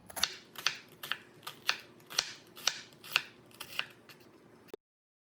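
A knife cuts an onion for a short noodle dish, about eleven crisp chopping strokes in a steady rhythm, close and fairly quiet, with no talking.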